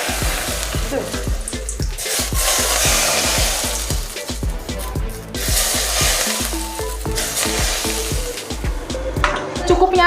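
Very hot oil sizzles and crackles loudly in a pan while sambal matah is made, a dense, steady frying hiss with rapid popping and stirring throughout.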